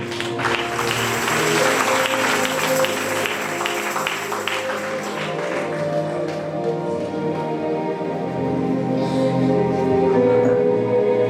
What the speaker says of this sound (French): Est-ce que vous pouvez acclamer encore une fois?